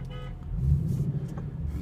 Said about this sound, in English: The hell's honking?